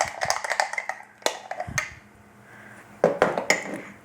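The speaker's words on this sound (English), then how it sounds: "I'm going to stir up my sourdough starter, mix it all up" Sourdough starter being stirred in a container, a spoon knocking and scraping against the sides in short irregular clusters of clinks, close and fairly quiet with brief pauses between.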